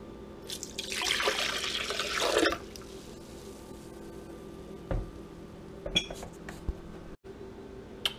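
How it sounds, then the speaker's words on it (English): Raw apple cider vinegar is poured into a blender, a brief gushing splash up close followed by scattered clinks and knocks of glass and kitchenware in a quiet room. "we'll go ahead and pour this in the blender."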